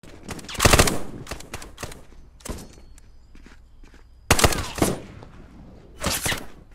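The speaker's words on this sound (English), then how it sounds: "Oh, I'm getting shot." Gunfire in the VR shooter game Contractors, heard as several loud, sharp bursts spread across the stretch, with quieter rattling and thumps between them and no talk.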